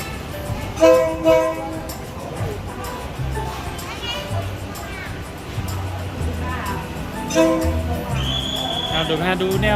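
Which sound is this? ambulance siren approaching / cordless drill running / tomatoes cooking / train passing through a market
train passing through a market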